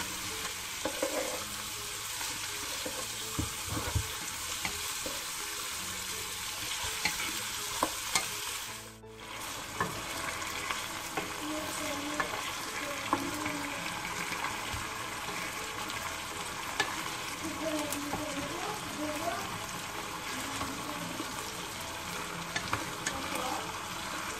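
Meat frying with onions in a pan for Algerian chicken tlitli, a loud, dense and continuous sizzle with crackling pops throughout, close up, a brief dip partway through and no voices.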